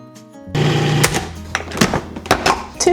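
A food processor whirs into motion, mixing three cups of all-purpose flour for maple glaze cookies. The loud, busy motor churn starts after a brief quiet and carries sharp rattling clicks on and off.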